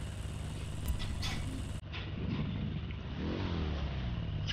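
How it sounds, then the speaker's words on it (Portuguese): A car engine revs in GTA V, a steady broadband drone that surges and climbs in pitch near the end, with no talk over it. "Agora dá pra escolher dar um ronco no motor nesse jogo."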